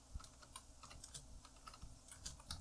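Soft, rapid keystrokes tap out a text prompt on a device keyboard in an uneven rhythm. The typing is close but quiet, and no one speaks.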